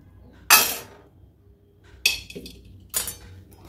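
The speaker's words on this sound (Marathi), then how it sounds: "यामध्ये हे साखर आणि दूध घालून घ्यायचं" A utensil clinks against a pot as sugar and milk are mixed into boiled milk for mishti doi. There are three sharp, close metallic clinks separated by quiet pauses.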